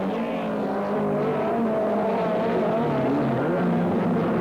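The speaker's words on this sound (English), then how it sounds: "as the cars make their way to the chicane for the second time" Vauxhall Nova rallycross cars race at Croft in the 1980s, several engines snarling together at steady high revs, their overlapping drones close and loud throughout without any talk.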